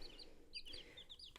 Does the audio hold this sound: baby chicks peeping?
yes